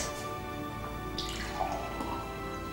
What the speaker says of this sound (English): Our thirst quencher is ready, so we'll pour it in the glass.